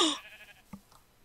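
A short, bright Minecraft sheep bleat bursts loudly at the start and fades fast, followed by a faint thump and a soft trailing cry. No voices.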